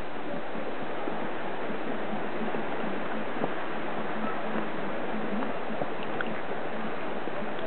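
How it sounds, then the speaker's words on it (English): Water rushing along the path to waterfalls: a steady, broad hiss of flowing water that fills the scene continuously and evenly. "you can hear the water running around."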